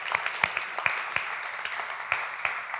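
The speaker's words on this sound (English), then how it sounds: "so yeah, we can clap for that." Church congregation clapping at a Fellowship Baptist service, a light scattering of claps with distinct individual hand strikes spread across a few seconds, fairly sparse rather than a full ovation.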